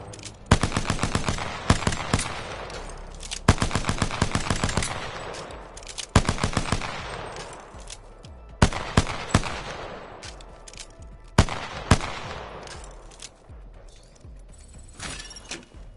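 Automatic weapon fire echoes across the firing range in Apex Legends, several sharp bursts of rapid shots spaced through the stretch, each trailing off into a reverberant tail.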